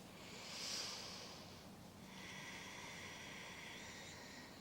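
Slow, deep breathing during a pregnancy back stretch, one long soft inhale and exhale after another, faint and close over a quiet background hiss.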